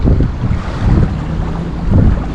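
Strong wind roars steadily across the microphone with low rumbling gusts while out fishing, like an open boat on rough water, and no talking.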